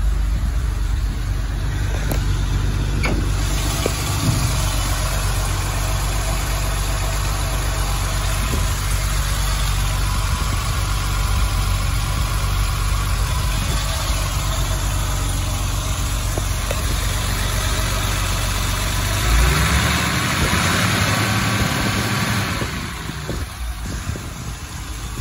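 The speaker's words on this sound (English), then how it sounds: "Just fires right to life. Nice idle." A Mercedes 280SL engine idling just after a cold start, a steady, even low rumble running continuously at close range before a brief shift in tone near the end, with no talking.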